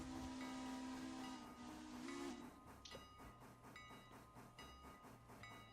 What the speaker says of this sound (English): Just a certain whistle I just tried.